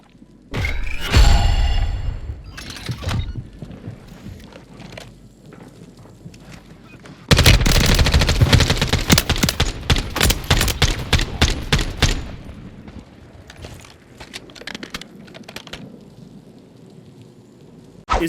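JAK Raven gun firing in a video game, with a short burst early on and then a long, loud, rapid stream of automatic shots, followed by scattered trailing bursts over a steady background wash.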